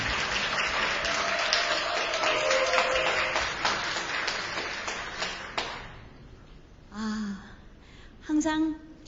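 Applause rises from an audience at an opening ceremony to welcome a speaker, a broad wash of clapping for about six seconds that cuts off, followed by brief voices.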